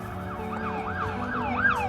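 An emergency siren wails in rapid rising-and-falling sweeps over steady traffic rumble, moderately close.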